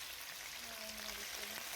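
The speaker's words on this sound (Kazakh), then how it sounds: "етімізді салып, қызарғанша қуырып аламыз" Meat fries in hot oil in a kazan, a soft, continuous sizzling hiss heard fairly quietly, with a faint voice briefly murmuring over it.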